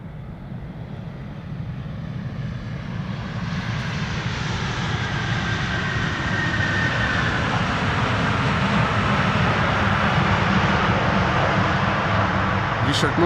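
A Turkish Airlines jet arriving at Amsterdam Schiphol passes with a steady, building engine roar and a rising whine, loudest toward the end, while a voice talks over it.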